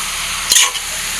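Two bay leaves dropped into hot oil for a Bengali-style mutton curry, giving a loud steady sizzle with a brief burst of spitting as they hit the pan.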